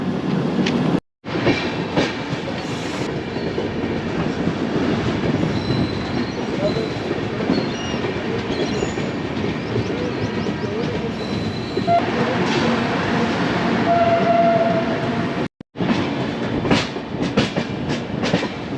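A train rumbles along steadily with rattling wheels and metallic squeals, and a faint tonal horn note briefly sounds partway through.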